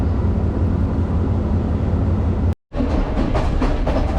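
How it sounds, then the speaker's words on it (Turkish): A train on the Kandy-Ella line in Sri Lanka rumbles loudly and steadily close by, with a brief cut partway through and rhythmic rolling clatter afterward. "trenimizi bekleyelim"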